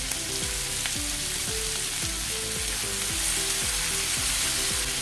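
Chopped tomatoes and onion fry with salt in a pan, giving a constant loud sizzle and hiss close by, broken by repeated scraping strokes of stirring.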